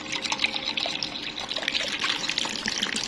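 Cold water pours steadily from a bottle into a bowl of chana chaat, a continuous close gushing splash that lasts the whole time with no talking.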